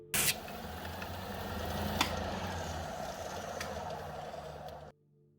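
A resin sanding wheel grinding petrified wood, a steady abrasive rushing whir with a low motor hum, holding for about five seconds before cutting off abruptly.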